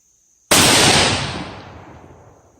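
A single loud rifle shot fired from a rifle fitted with a Leupold LRP 8.5-25 scope during a scope tracking test, with a sharp crack that rings out and then fades slowly over about two seconds.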